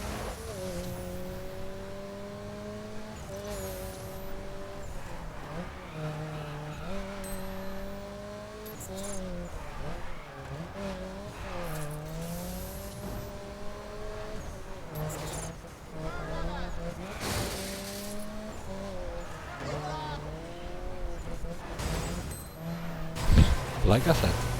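A race car in The Crew that understeers slightly, its engine droning steadily and rising and falling with gear changes and revs throughout, heard under someone talking.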